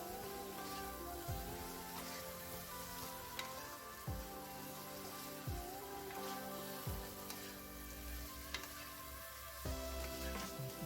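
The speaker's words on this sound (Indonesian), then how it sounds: "Nah, ini kita aduk-aduk sampai udangnya ini terlumurin sama bumbunya." Fried shrimp are stirred into balado chili sauce in a pan, with a steady, faint sizzle and regular scraping strokes of the spoon, heard close up without speech.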